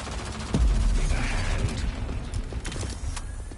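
Gunfire in the online shooter Rogue Company, a dense fusillade of shots and booms through a team fight, loud and continuous with mechanical clatter in the mix.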